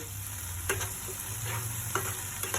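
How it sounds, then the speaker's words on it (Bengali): A poppy seed and cashew paste masala sizzles as it is sautéed in a pan, with a low steady frying hiss and a few distinct scraping strokes of a spatula recurring at intervals. "এবার আমি আর একবার ভালোভাবে কষিয়ে নেব"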